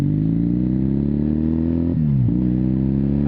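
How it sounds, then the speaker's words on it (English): A 1981 Kawasaki KZ440 motorcycle engine settling back to idle, running close and steady with a throaty hum and two brief dips in pitch. "We're going right back to idle."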